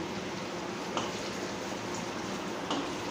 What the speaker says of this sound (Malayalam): അതും കൂടെ ഇട്ട് നമുക്ക് ഒന്നിച്ച് വറുത്തെടുക്കാം.